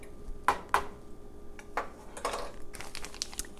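Pan bread batter with milk is mixed in a bowl, giving soft scraping, tapping and clinking strokes at an uneven pace, close and fairly quiet.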